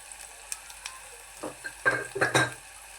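Cinnamon and turmeric sauté in a pan while being stirred, with soft sizzling and a few scraping, clinking stirs growing louder toward the end, heard close and without talk.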